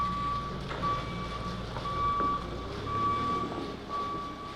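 Reversing beeps from a truck at a building site sound as evenly spaced, steady electronic tone bursts, moderately loud over a constant rumble of engine and site noise.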